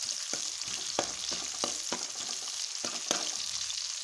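Onions frying in oil in a pan for plain rice, a steady close sizzle with occasional stirring scrapes throughout, no talking.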